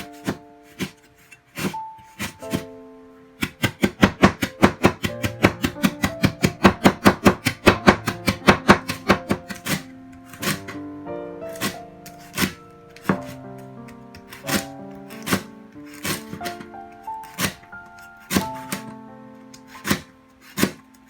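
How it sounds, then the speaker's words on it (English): A knife chops lemongrass, ginger and garlic on a cutting board for Hmong sausage. Loud, close, crisp strikes come in uneven bursts, a fast steady run in the middle and slower scattered chops around it, with no talking. "chop all the lemongrass and the ginger and the garlic"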